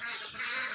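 Khaki Campbell ducks give a short burst of nasal quacking calls, loud and close, with no talk over them.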